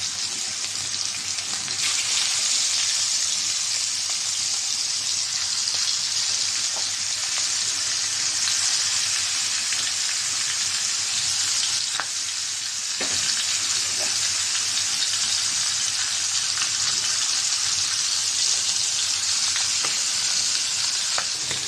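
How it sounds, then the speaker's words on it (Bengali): Pangas fish rubbed with turmeric and chili sizzles loudly and continuously in hot oil on a flat tawa, a dense, even crackle with no voices. "তেল দিয়ে দিছি, গরম হয়ে গেছে তেলটা। এখন মাছ দিয়ে দিব।"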